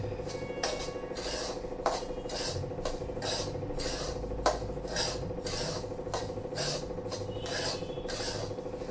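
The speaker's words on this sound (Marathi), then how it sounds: "हा रवा मी छान भाजून घेते" Semolina (rava) dry-roasting in a pan for upma, stirred continuously with a spoon that rasps and scrapes against the metal in a steady rhythm, with sharper clinks at intervals, close and clear, with no talk.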